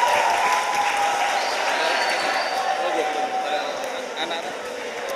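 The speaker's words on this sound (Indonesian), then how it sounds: "tepuk tangan untuk kita semua." Crowd applause from a school audience at an SMK Heroes' Day assembly, a dense steady clatter of many hands that holds throughout and fades slightly toward the end.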